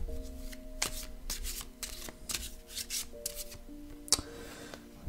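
Oracle cards shuffled by hand, a run of quick rasping riffles and soft slaps close by, with one sharper flutter near the end as cards drop out, over a faint steady background hum.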